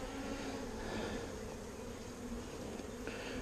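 Honeybees buzzing around an open hive during an inspection, with a frame heavy with nectar. A dense, continuous drone of many insects, close and steady, with no talk.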